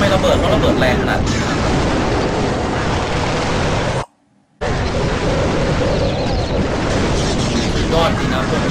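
Heavy bomb explosions in Clash of Clans, a loud, dense, roaring blast that runs on and on, broken by one brief silence before the barrage resumes just as strongly.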